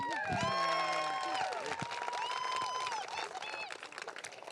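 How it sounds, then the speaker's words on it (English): Audience applause and cheering at a GiGi's Playhouse live event, crowd clapping under excited shouts and voices, loudest at the start then settling into steady clapping. "Please give them a round of applause."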